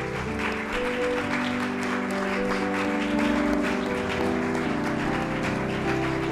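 A church congregation gives a long standing round of applause to God, a steady and dense wash of clapping that fills the room, with tonal music or hum running beneath it.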